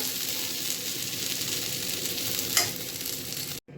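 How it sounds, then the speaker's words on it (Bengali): Brinjal pieces fry in hot oil in a kadai with a steady, dense sizzle and a brief sharper stir or spatter near the middle, continuous until an abrupt cut at the end, with no voices. "বেগুনগুলোকে খুব ভালো করে ভেজে নেব।"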